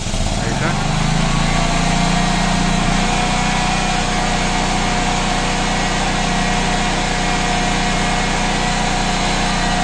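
A single-phase electric generator with an automatic start and transfer switch cranks and catches, then settles into a loud, steady engine drone that runs up close without a break.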